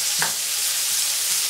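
Stirring and sizzling in a separate wok that was used earlier for frying chicken and liver: a short scrape of the utensil near the start over a steady hiss of frying, with no talk.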